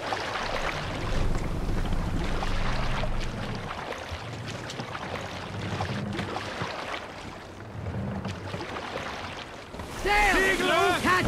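A Viking longship in Assassin's Creed Valhalla pushes through waves with a steady rushing wash of water and wind, continuous and fairly loud, and a brief tonal musical flourish comes in near the end.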